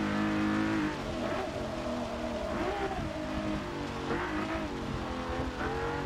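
A Ferrari race car engine in the racing game Forza Motorsport 6 roars steadily and loudly, with revs rising and falling and some tire squeal, no talk over it.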